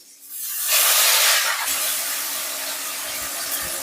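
Ground onion, garlic and tomato paste dropped into hot oil bursts into a loud, sudden hiss that swells within a second, then settles into a steady close sizzle with faint crackles.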